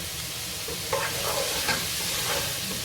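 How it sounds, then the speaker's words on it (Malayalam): Sliced onions sautéing in coconut oil make a continuous hiss and sizzle, broken by a few louder scraping stirs of a spoon in the pan, with nobody talking. "ആ വെളിച്ചെണ്ണ മതി ഈ സവാള എല്ലാം മൂത്ത് വരാനായിട്ട്."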